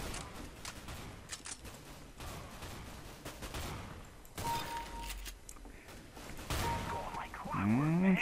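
Sawed-off shotgun blasts from a Counter-Strike GO match ring out amid scattered in-game gunfire, several sharp bursts with quieter gaps, no speech.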